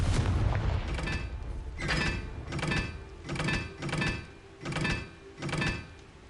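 Confringo fire spell blasts in the video game Hogwarts Legacy, six or so booming explosive bursts at roughly even intervals, loud and close with no talking.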